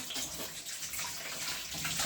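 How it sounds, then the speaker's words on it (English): Water runs steadily from a kitchen tap into a sink while chicken is being cleaned for a Jamaican-style rice and fried chicken meal, a continuous broadband splashing rush close by with no talk. "I'm gonna catch some water here"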